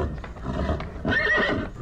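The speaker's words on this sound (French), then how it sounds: "ma famille a entendu les hennissements des chevaux dans le vieux kraal en pierre" Horses neigh and whinny loudly inside an old stone livestock kraal, with hooves clopping on the ground beneath; a long whinny rises near the end of the short burst.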